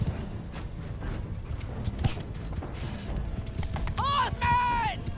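Cavalry galloping in the Mount and Blade Bannerlord battle game, a dense low rumble of hoofbeats under battle din, with a couple of rising horn-like calls near the end.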